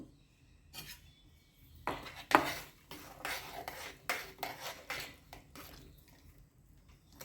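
Flour dough for fasting medu vada being stirred in a pan: quiet, irregular scraping and rubbing of a spoon against the metal, with soft clinks between strokes.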